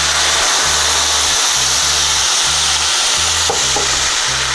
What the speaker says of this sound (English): We're gonna start with some red wine.